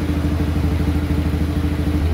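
A motorcycle engine fitted with a new BRT four-valve CRF cylinder head runs steadily on a dyno, giving a loud, continuous throbbing drone with a fast, even pulse and no voices.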